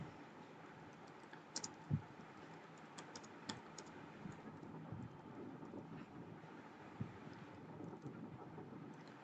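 Keys on a computer keyboard click in soft, scattered taps, with a few sharper strokes, faint and close in a quiet room.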